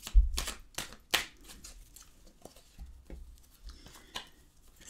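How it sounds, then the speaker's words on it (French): Tarot cards being drawn and handled at a table, with a few sharp close flicks and slaps at first, then softer scattered shuffling and tapping, and no talking. "Ensuite, on va prendre d'autres cartes."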